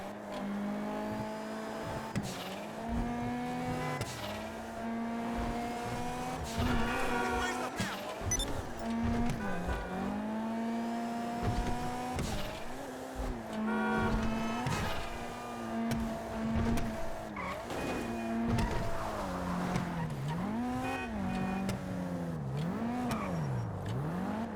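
The engine of an armored Kuruma car in Grand Theft Auto revs and changes pitch repeatedly as it drives, with rising and falling engine tones and occasional shifts, heard steadily and up close.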